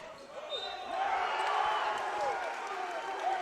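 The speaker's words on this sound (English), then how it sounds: "the crowd are ecstatic" A basketball crowd at a college league game between Sheffield College and Manchester Magic, cheering and applauding in a sustained, moderately loud wash that swells after the first second, with a commentator speaking over it.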